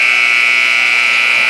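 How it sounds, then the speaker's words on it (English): An end-of-half buzzer sounds at a girls high school basketball game, one loud sustained electronic tone holding steady with faint crowd noise underneath. "there's the buzzer"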